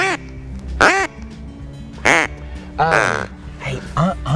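Several loud, nasal duck quacks come in separate bursts, close and clear, with short pauses between calls, outdoors in autumn during a duck hunt.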